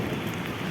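Steady rain pours down in a dense, even hiss with no pauses, fairly close and alone, with no voices or other sounds breaking through.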